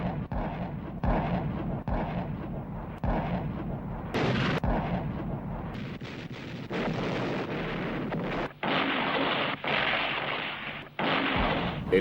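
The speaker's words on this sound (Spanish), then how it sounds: "una demoledora barrera de artillería alemana y disparos de cohetes iluminan los cielos" A WWII German artillery barrage and rocket fire at dawn on 16 December roll on as a loud, dense wall of heavy booms and blasts, with a few brief gaps, near and continuous, with no talk.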